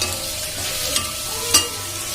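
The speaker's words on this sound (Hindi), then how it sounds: "यहाँ पे मेरी प्याज फ्राई हो रही है" Onions frying in a pan in a home kitchen, hissing in a continuous sizzle with a couple of sharp pops or utensil clicks, close by and without speech.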